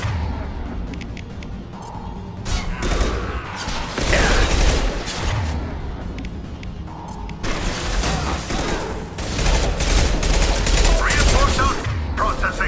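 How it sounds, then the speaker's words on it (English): Concussive shots and rapid gunfire from a Mass Effect 2 firefight, with loud repeated bursts and booming impacts running nearly continuously over a busy, dense battle mix. "Concussive shot ready."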